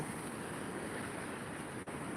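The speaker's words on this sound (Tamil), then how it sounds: "அலையோட சத்தம் கேக்குதா உங்களுக்கு" Sea waves wash onto the beach at Mahabalipuram in a continuous, soft, broad rush, faint and unbroken, with wind noise blended in.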